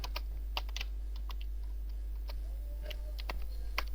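Keys clatter in quick irregular bursts as code is typed on a computer keyboard, close and fairly soft over a steady low hum, with no voices.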